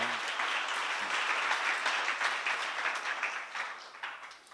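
A congregation at a church seminar bursts into sustained applause, many hands clapping in a thick, even roar that gradually thins and fades toward the end.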